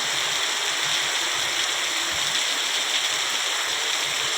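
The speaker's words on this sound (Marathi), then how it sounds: "या ठिकाणी आज चांगला पाऊस" Dense, steady rush of heavy monsoon rain falling on farmland, a constant broadband hiss with no breaks and no voices.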